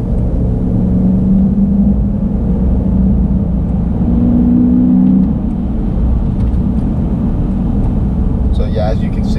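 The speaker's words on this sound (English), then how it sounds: "we'll get one more last acceleration here" A 2013 Dodge Durango Citadel with a Hemi V8 accelerates, heard as a loud, steady rumbling drone from inside the cabin with a rising tone midway, while a person talks over it.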